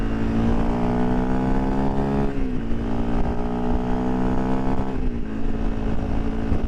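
A Honda CRF250L motorcycle engine drones steadily at highway speed while merging, a loud continuous close-up hum with brief dips in pitch at two gear shifts or throttle changes, no talk.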